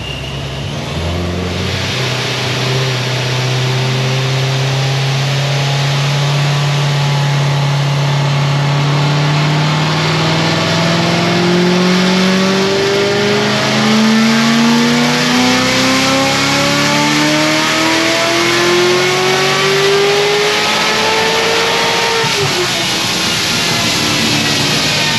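A modified car engine with a loud, close, sustained drone that climbs steadily in pitch as it revs, then drops back near the end.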